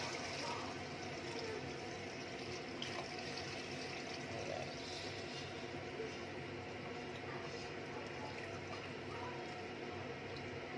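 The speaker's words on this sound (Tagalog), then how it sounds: "ilalagay na rin natin yung 2 liters na water" Two liters of water poured into a cooking pot of boiled bones and broth for pares, a continuous broad splashing rush that stays steady and fairly faint throughout, with no talk.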